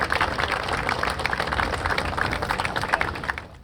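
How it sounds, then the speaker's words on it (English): A crowd at a news conference applauds after a ceremony, with dense, steady clapping that thins and fades out near the end. "Let's give a huge round of applause to Teresa again."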